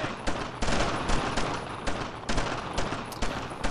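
Squad gunfire in Brothers In Arms: Road to Hill 30, with rapid, loud bursts of rifle and machine-gun shots firing in an irregular, sustained rhythm close by, no voices.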